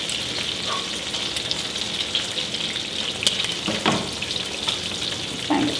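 Bacon frying in a pan makes a loud, continuous sizzle with scattered pops and crackles close up, sounding alone without any voices.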